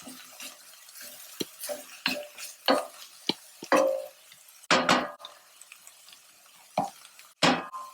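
Onions soften in a pan on the stove under repeated close stirring, with scraping and clinking spoon strokes in an irregular rhythm over a faint sizzle, and no voices.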